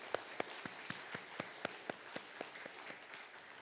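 Church congregation at a Sunday afternoon service giving a round of applause, sparse and fairly faint: about fifteen evenly spaced claps in a slow steady rhythm, like a small group or a single clapper keeping time.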